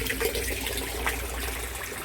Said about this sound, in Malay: Dia akan mengalir ke sini, kemudian dia akan turun balik ke tangki ikan dengan air yang bersih.